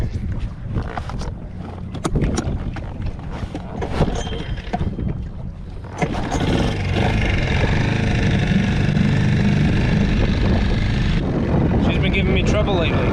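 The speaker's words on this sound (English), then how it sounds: "I usually like to get the motor running first before I disconnect." A boat's outboard motor cranking and catching on a looping-cruise trip, with rough, uneven noise for several seconds before the engine settles into a loud, steady drone, under wind buffeting the microphone and a voice speaking nearby.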